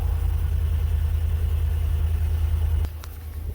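A 2021 Chevy Tahoe idles with a steady low rumble close by, then the level drops sharply near the end as a few clicks sound, no voices present.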